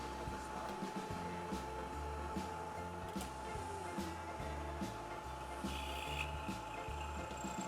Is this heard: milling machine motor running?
yes